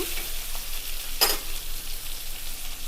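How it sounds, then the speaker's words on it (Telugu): Bitter gourd pieces frying in a pan give off a bright, steady hiss, heard close and alone, with a short burst of louder crackle in the middle. "కాకరక ముక్కలు వేసేస్తున్నాను"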